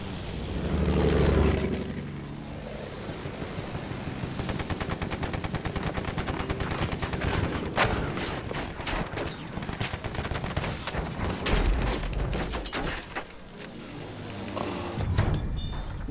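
Anti-aircraft gun firing at aircraft in the video game Battlefield 1, rapid sustained bursts of heavy automatic fire with a droning propeller plane passing overhead, loud and close, with a brief exclamation.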